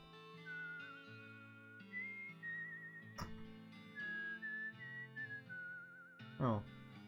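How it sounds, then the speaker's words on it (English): A woman whistles the opening title theme of the West of Loathing video game, a wandering melodic tune over soft game music, with a few brief louder game effects partway through. "I like this lady that is whistling the opening title theme."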